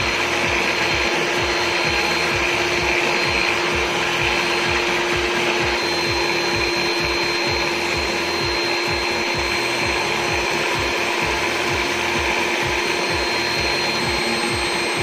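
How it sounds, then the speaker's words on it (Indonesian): An electric mixer beats butter cake batter in a continuous, loud whirring drone with a rapid rhythmic grinding pulse that runs steadily throughout, with no talk. "Mungkin untuk mixernya kita perlu waktu 5 ataupun 7 menit"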